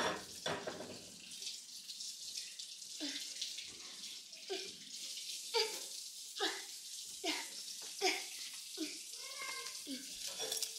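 A tap runs water steadily into a tub, a continuous hissing splash with people talking and occasional cat-like cries over it.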